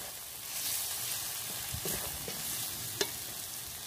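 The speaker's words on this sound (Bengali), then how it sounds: "এবার আমি দিয়ে দেব ধনের গুঁড়ো, ভালো করে কষিয়ে নেব" Spice masala with coriander powder sautéing in a pan, a steady soft sizzle with a few scraping stirs near the middle and one sharp clink toward the end, close and fairly quiet.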